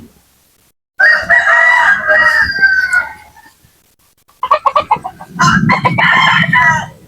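Native chickens cluck and a rooster crows loudly and close by, in two bursts separated by a short quiet gap, with rapid clucks leading into the second crow.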